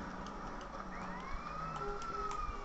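Wailing police siren in the video game GTA, a rising and falling electronic tone that sweeps steadily over a busy background of game traffic and engine noise, fairly distant and continuous.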